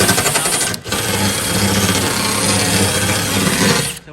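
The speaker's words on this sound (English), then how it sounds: "Now the last part, I just grind it and make it even a little bit" Power grinder smoothing the edge of a metal racing skid plate for a supercharged Ford Mustang, a loud continuous abrasive rasp held steady for nearly four seconds with a brief dip near the start.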